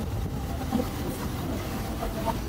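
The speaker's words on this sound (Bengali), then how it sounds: "পুরো কার্ভ হয়ে ট্রেনটা কিরকম ঘুরছে দেখো" Howrah–Amta local train running on the tracks around a curve near Kona station, a steady close rumble and rattle of the carriages with no talking.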